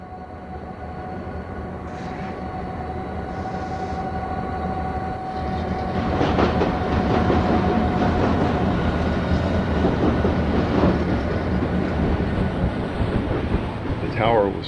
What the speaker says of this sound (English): we'll see a westbound work train led by a 1955 built